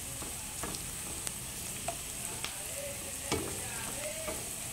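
Chopped ginger frying in a pan, a soft, steady sizzle broken by faint scrapes and taps of a utensil stirring it, fairly distant and quiet with no voices.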